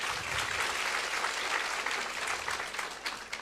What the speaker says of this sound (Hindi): सवाल के लिए तालियां बजाइए।